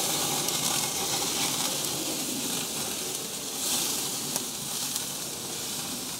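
Tri tip beef sears over a wood fire on a Workhorse Pits 1975 smoker, giving a loud, steady sizzle and crackle of fat with brief pops, close by and uninterrupted.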